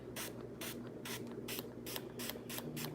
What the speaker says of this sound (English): I want to show y'all how saturated I make her hair when I spray like this